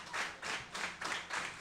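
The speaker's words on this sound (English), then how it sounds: "I'm gonna guess that they're clapping for Travis." A wrestling crowd at a Monster Factory event claps in five broad, steady bursts, a rallying rhythm that fills the arena with no voices over it.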